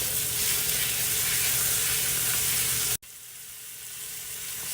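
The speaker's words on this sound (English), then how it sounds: "we are in my second batch of frying my pork already" Loud, steady sizzling of pork frying in a hot pan, a dense crackling hiss that cuts off abruptly, then returns more quietly.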